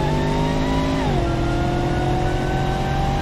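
A car engine revs hard in BeamNG.drive, a steady loud drone with harmonic whine that drops in pitch after about a second as the throttle shifts, continuous throughout with no talk.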